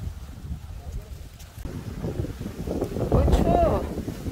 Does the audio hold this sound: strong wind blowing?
yes